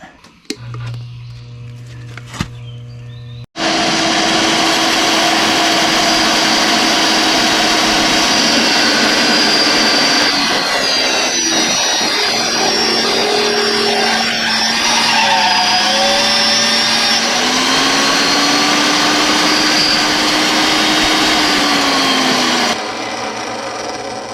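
After a few clicks, a powerful magnetic drill motor whines loudly for about twenty seconds, its pitch sagging and rising as the bit bores into metal on an excavator, then stops.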